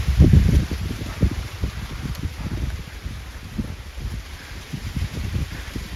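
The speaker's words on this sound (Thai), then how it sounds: "แล้วลมแรงด้วยวันนี้" Strong wind outdoors in a rural area during a search for a wild giant honeybee nest: a steady, low gusty rumble buffets the microphone for six seconds, a few stronger gusts near the start, with no voices.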